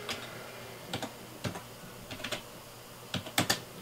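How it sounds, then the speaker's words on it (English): Typing on a computer keyboard to enter a fastboot command for a Google Nexus 7 tablet, with quiet, close keystrokes in small irregular bursts separated by short pauses, no voices. "the next thing that we want to do is type fastboot"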